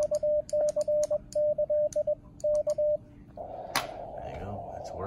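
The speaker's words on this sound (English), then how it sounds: "Working, it's transmitting" Morse code CW keyed by hand on an sBitX open-source SDR radio on the 20-meter band, a steady tone in short and long bursts, then giving way to a hiss of band noise with a brief click.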